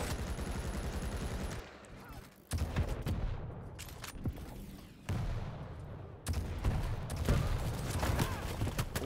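Rocket fire and explosions ring out in a Quake duel video game, a run of sharp bursts and booming impacts separated by short quieter gaps, with a commentator's voice talking over the action.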